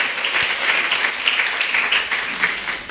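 Church congregation applauding in praise, a dense, steady wash of many hands clapping at close range for the whole stretch.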